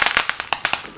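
Hing (asafoetida) powder hits hot oil in a pan with curry leaves, giving a run of sharp crackling pops and spits at close range, loud and irregular with no talk over it.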